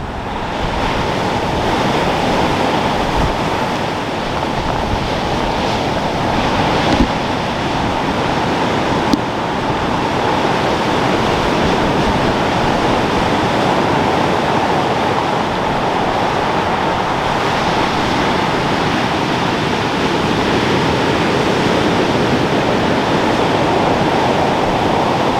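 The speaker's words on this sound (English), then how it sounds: "we have those terrific Atlantic rollers coming in" Atlantic rollers break steadily onto the beach at Church Cove in Cornwall, a loud, continuous roar of surf close by, with wind buffeting the microphone throughout and no voices.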